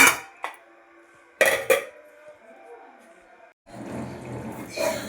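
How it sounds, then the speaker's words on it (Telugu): A lid is set onto a cooking pot of potato curry, giving sharp metallic clanks and clatter at close range, followed by a low rumbling background. "మూత పెట్టేస్తున్నాను"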